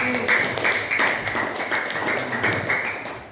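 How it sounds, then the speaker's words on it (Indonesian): A classroom applauds a student group after a presentation, a short burst of clapping with uneven, tapping hand strikes close by and a faint voice underneath. "Nah, kasih tepuk tangan buat kelompok."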